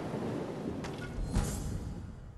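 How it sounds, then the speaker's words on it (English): Thunder in the video game Ghost of Tsushima rumbles low and continuous beneath a stormy wash, with a sharper crack swelling near the middle before settling back into the steady roar. "The thunder sounds so good."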